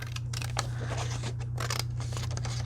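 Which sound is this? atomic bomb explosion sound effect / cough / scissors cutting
scissors cutting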